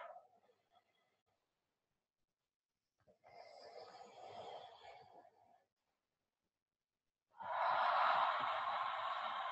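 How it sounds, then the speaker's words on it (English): Deep breaths during a guided breathing exercise: three long, close breaths with quiet pauses between them, the last one loudest and fullest. "And taking 3 more deep, beautiful cleansing breaths."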